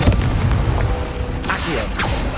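Blasting Confringo spell explosions in the Hogwarts Legacy video game, sharp booming bursts going off in quick succession, loud and close over a steady game background.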